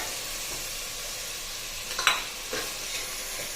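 Onions and chilies frying in hot oil while being stirred, a steady low sizzle with a couple of brief louder scrapes of the spoon near the end.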